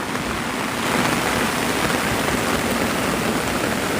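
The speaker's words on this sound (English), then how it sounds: "You guys hearing the rain?" Steady heavy rain pours down in Da Nang, a dense continuous hiss filling the whole clip with no breaks, loud and close.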